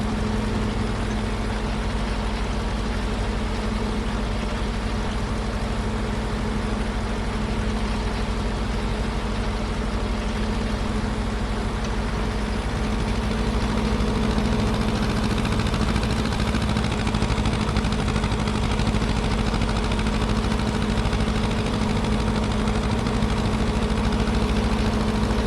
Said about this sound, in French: Tracteur à l'ancienne.